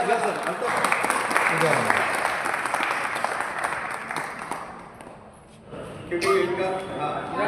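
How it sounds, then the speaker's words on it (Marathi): A hall audience at a Republic Day event for disabled people in Sambhajinagar applauds loudly and steadily for several seconds, briefly fades, then swells again, with voices mixed in. "एकदा जोरदार टाळ्या झाल्या पाहिजे"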